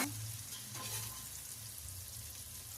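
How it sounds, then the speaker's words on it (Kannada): Onions frying with mint and coriander leaves in a pan, a steady close sizzle and crackle with a low hum underneath, continuous and moderately loud over a few seconds, with no voices. "ಈರುಳ್ಳಿ ಫ್ರೈ ಮಾಡ್ಕೊಳ್ಳೋಣ. ಪುದೀನ, ಕೊತ್ತಂಬರಿ ಸೊಪ್ಪು ಹಾಕ್ಕೊಳ್ಳೋಣ. ಅದನ್ನು ಚೆನ್ನಾಗಿ ಫ್ರೈ ಮಾಡ್ಕೊಳ್ಳೋಣ"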